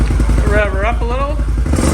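A 2021 Can-Am Renegade 1000 XMR ATV on its factory exhaust revs up loud and close, its engine note rising and falling over a steady idle rumble, with voices talking over it.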